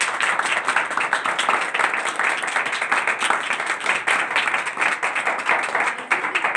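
Steady, dense applause from a church congregation during a Sunday service, continuing evenly throughout with no voices on top.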